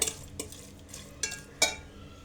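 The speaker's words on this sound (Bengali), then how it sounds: "সবগুলো আমি আলু আর চিংড়ি মশলাতে কষিয়ে নিচ্ছি" Potatoes and shrimp are sautéed in spice masala in a pan, heard as a low sizzle broken by a few sharp spatula scrapes and clinks against metal, close and unaccompanied by speech.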